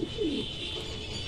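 A pigeon in a loft gives a single brief, low coo right at the start, then there is only steady background hiss.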